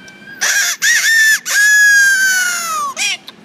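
A man whistles an imitation of a rooster crowing: loud, close, harmonic-rich calls in a few short bursts followed by one long, drawn-out falling crow and a final short note.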